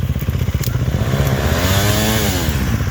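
Several dirt bikes, a KTM 300 TPI, a Yamaha YZ250FX and a KTM 350 XC-F, rev loudly and continuously on a slippery wooded trail, engines buzzing and rising in pitch close by, with no talk over them.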